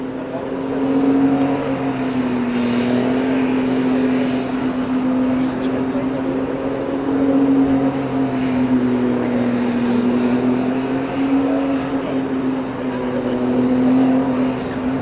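A Formula Student driverless race car on the skid pad, a loud sustained engine drone that rises and falls gently in pitch, with a commentator talking over it.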